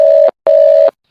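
A telephone tone sounding after a disconnected call: two loud, steady beeps of equal pitch, each about a third of a second long, separated by a short gap and heard alone with no talking.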